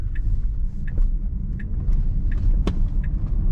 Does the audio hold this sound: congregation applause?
no